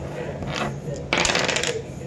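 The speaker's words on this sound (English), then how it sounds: "I'm just rolling the dice for fun, Sarah." Dice are rolled onto a hard surface, making a short, bright rattling clatter with quick tumbling clicks over faint room noise.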